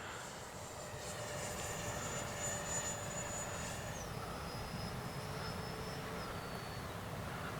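A Freewing F-22 RC jet comes in to land, its steady ducted-fan whine heard from a distance, then stepping down in pitch as the power is cut back for the glide, with no voices.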